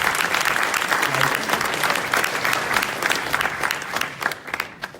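Applause from an audience at a machine learning tech meetup, dense sustained clapping lasting several seconds, loud and close, gradually thinning toward the end.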